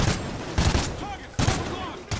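SC 2010 assault rifle fire in Call of Duty: Ghosts, three short sharp bursts of gunfire with brief pauses between them, close and loud.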